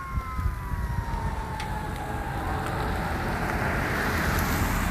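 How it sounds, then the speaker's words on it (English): A fire department siren approaches at the scene of a semi-trailer fire on US-23, its wail sliding downward in pitch over steady traffic and wind noise as the vehicle draws nearer. "Here comes the fire department."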